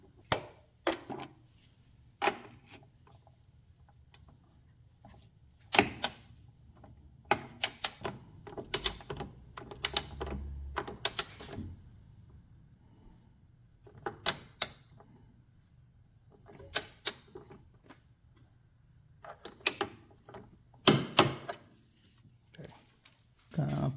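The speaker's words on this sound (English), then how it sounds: "Okay, tighten the side bolt now." A ratchet tightens the side bolt on a Honda Accord engine mount, giving sharp metallic clicks in short clustered bursts with pauses between, close and distinct over a quiet background, with occasional talk.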